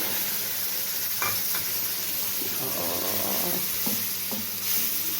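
Koshari ingredients frying in oil in an Egyptian home kitchen: a steady, close hiss and sizzle fills the whole stretch, with faint stirring clinks and soft movement on top.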